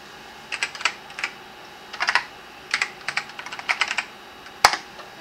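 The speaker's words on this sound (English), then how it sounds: "So what you will do is type in disk init." Someone types a command on a PC-98 computer keyboard with clicky keystrokes in short bursts, ending with a sharper keypress like Enter, close and fairly quiet in a still room.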